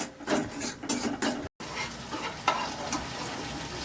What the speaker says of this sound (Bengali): এখন এই মশলাটাও ভালো করে কষানো হোক।